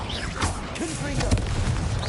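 A Confringo blast spell from Hogwarts Legacy lands in a sharp crashing impact amid busy spell effects, with whooshing and booming layers close and loud, and a voice partly under the noise.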